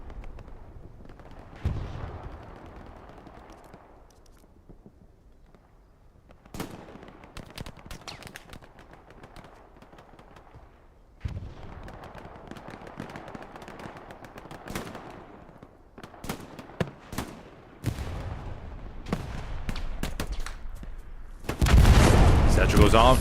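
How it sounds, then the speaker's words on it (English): Artillery fire in the video game Hell Let Loose, with booming blasts and bursts of gunfire scattered through a battlefield scene, the heaviest salvo near the end, under stretches of voices talking. "there's a friendly round for artillery"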